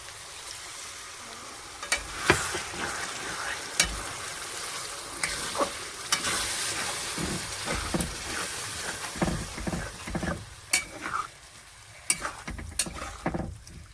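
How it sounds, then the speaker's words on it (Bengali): In a pan for a chicken dish, spice paste fries with a little water added. It hisses and sizzles steadily while a spoon stirs and scrapes in sharp, irregular clinks, close up, with no voices. "এটা মশলাটা একটু জল মিলিয়ে দিয়ে দিচ্ছি।"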